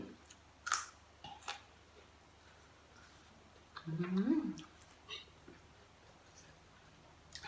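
Someone bites into a Thai red chili eaten with spicy Korean instant noodles, with quiet chewing and a louder crunchy burst of mastication near the middle, close to the mic.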